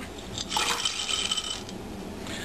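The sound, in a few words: chocolate being added to cream in pot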